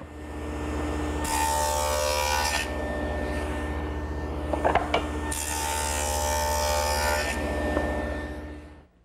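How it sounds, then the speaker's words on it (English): A table-saw dado head trimmed to a quarter inch cuts a groove in drawer sides and front to take a plywood bottom: two separate bursts of cutting noise rise over a steady, close motor hum. "Now with the dado head reduced to 1/4-inch in width, I can make a groove in the sides and the front for the plywood bottom."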